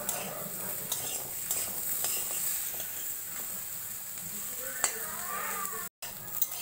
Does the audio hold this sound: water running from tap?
no